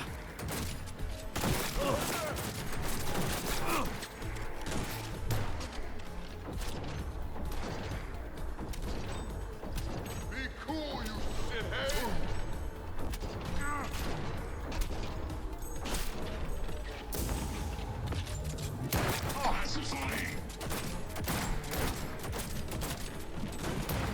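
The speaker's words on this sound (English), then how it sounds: "I need a few shots for this guy, but they're definitely pistols like Johnny's Silverhand's pistol." Pistol gunshots in Cyberpunk 2077, a pistol like Johnny Silverhand's, as repeated sharp shots among heavy combat noise, crashes and mechanical sounds, fairly quiet overall.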